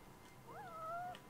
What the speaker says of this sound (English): Oh, I hear a kitty!